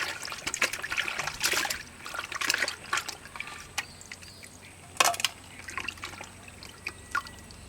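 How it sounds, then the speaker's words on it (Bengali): Tap water running and splashing while fresh tilapia is rinsed in a home kitchen, an uneven trickle and drip that swells and fades with occasional louder splashes, close by with no voices. "মাছ কাটা শেষ এখন মাছটা ধুয়ে নিব"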